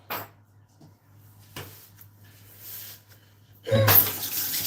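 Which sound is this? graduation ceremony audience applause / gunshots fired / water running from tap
water running from tap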